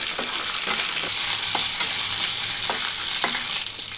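Green chilies frying in oil with other ingredients for a Rayalaseema-style peanut chutney, a steady close sizzle broken by regular scraping stirs of a spatula, with no speech.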